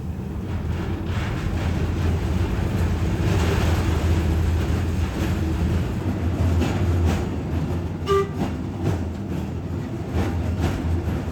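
A steady rumbling roll with rattling and clanking fills the interior of a DART streetcar riding near City Place station in Dallas, continuous and fairly loud throughout, with a brief faint squeal partway through.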